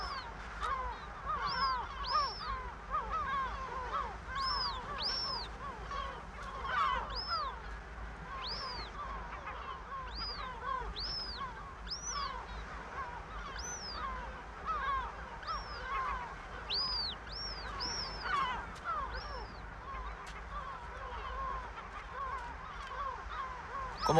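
A newly hatched gull chick repeatedly peeps and cheeps for its brooding mother on an island nesting ground, thin rising calls in quick irregular series, fairly close, over a soft outdoor background.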